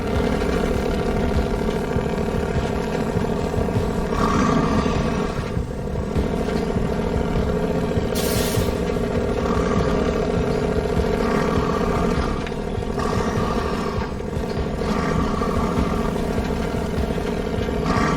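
The engine of a Kenworth 963 truck in the video game Snowrunner drones steadily and loudly as it drives, a continuous deep roar with a few brief swells.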